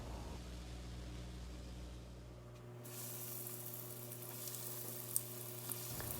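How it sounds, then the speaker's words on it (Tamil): Sweet potato fingers fry in hot oil, a steady bright sizzle and crackle that grows louder partway through, with a couple of sharp pops near the end. "மீதி இருக்கிற ரோல்ஸையும் ஃப்ரை பண்ணி எடுத்துக்கலாம்."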